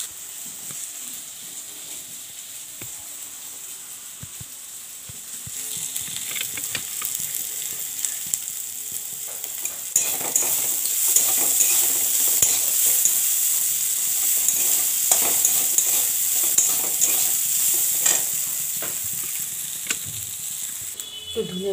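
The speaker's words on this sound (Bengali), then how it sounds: "লাউ খোসা ভাজা হচ্ছে।" Bottle gourd peel frying in a pan with salt, turmeric, chili and a little sugar, a steady close sizzle that grows louder partway through, with intermittent stirring scrapes and clicks.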